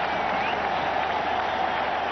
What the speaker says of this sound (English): The crowd is already getting excited